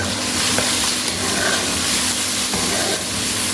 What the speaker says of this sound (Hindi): इसमें अदरक लहसुन हरी मिर्चें खड़े मसाले डाल देंगे।